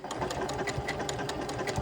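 A domestic sewing machine runs a buttonhole-stitch applique along the edge of a small fabric chimney piece, giving a steady, close, mechanical whirring rattle with rapid, evenly spaced needle beats throughout.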